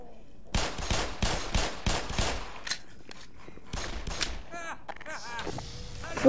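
Gunfire in the game Black Mesa, several sharp, close shots in an irregular burst followed by scattered later shots and chirping effects, with a voice briefly audible.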